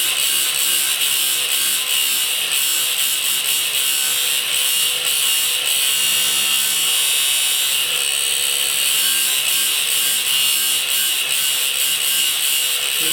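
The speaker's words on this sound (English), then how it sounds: "the blue shark cut-off wheel is very effective" A blue shark cut-off wheel grinds through high-speed steel with a loud, continuous, unbroken high-pitched abrasive whine, close up and steady throughout with no talking.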